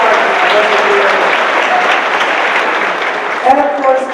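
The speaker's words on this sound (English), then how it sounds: "Let me give Abel a round of applause." An audience at a lecture series gives a full round of applause, dense and continuous, with a voice starting to speak over it near the end.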